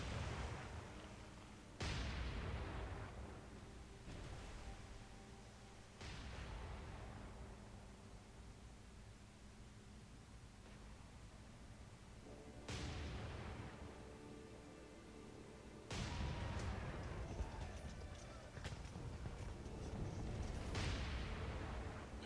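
16-inch battleship guns fire at night in the naval video game War on the Sea, a series of about six heavy booms, each a sharp blast trailing into a long rumbling decay, distant and deep.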